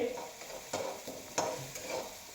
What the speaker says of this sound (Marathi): पहा चांगल्या प्रकारे मोठ्या गॅसवर आपण हे मिश्रण परतवून घेत आहोत कांदा मोहरी जिरं कढीपत्ता